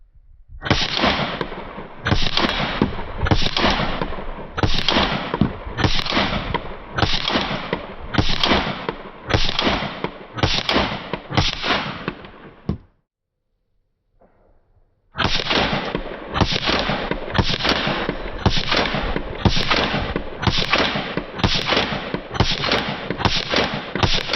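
9mm pistol fire from an MPA DS9 Open Comp and a Staccato XC, heard as two long strings of sharp, evenly spaced shots, loud and close, separated by a short pause.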